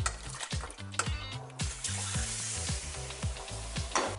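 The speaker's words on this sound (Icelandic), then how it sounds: "Kjötið aftur í súpuna." Rinsed lamb meat for Icelandic lamb soup is tipped back into the pot with splashing, clattering and bubbling water, close up and busy, with no talking.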